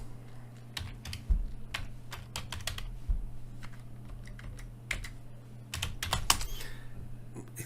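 Typing on a computer keyboard, with quick irregular bursts of key clicks and a few heavier thumps, close and quiet over a low steady electrical hum.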